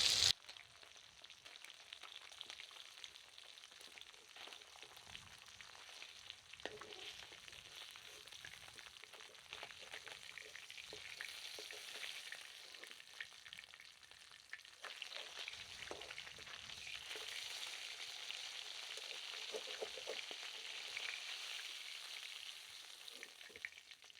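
Pieces of a 2 kg katla fish fry in hot oil, a faint, steady crackling sizzle that runs continuously with occasional stirring, with no talk.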